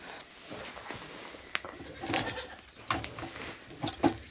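A goat in a barn during evening milking, with scattered soft bleats, shuffling and knocks close by over a quiet background.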